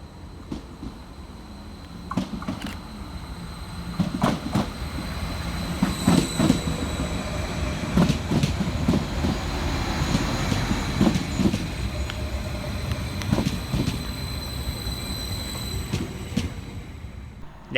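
A Transport for Wales train, unit 231001 on the Cardiff Central to Rhymney service, rolls into a station on the line between Ystrad Mynach and Rhymney, with rumbling wheels, rhythmic rail clicks and squeals, loud and close.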